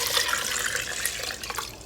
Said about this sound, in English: So I've got 4 cups of water going in here.